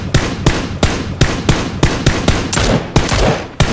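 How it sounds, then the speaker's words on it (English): Rapid, loud gunfire in the battle royale game PUBG, with sharp automatic shots cracking at an even rhythm, about eight bursts in under four seconds, close and dominant. "The bridge is shooting us as well."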